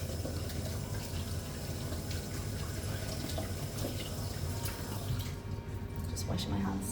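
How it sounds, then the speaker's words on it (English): Hands are washed under a running tap, a steady close splash of water hissing continuously, with small drips and shifts in the flow toward the end. "Just washing my hands."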